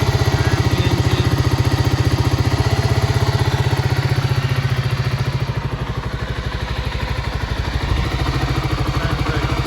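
A 1987 Kawasaki KLR250R motorcycle engine idles steadily, fresh back from its MOT inspection, with a close, even, rapid single-cylinder putter and a slight dip in level midway.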